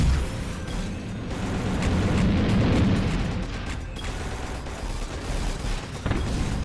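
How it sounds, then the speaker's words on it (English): Explosions in the VR shooter Drone Striker rumble as a heavy, sustained roar of deep booms that swells and fades continuously, with no speech. "The explosions do sound and look great"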